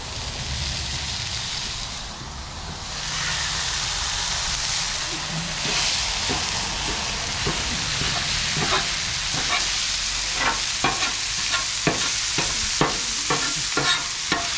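Hamburger meat frying on a Blackstone griddle as part of making hamburger soup, a steady close sizzle with scraping and stirring clatter from a spatula that grows into repeated sharp clicks toward the end.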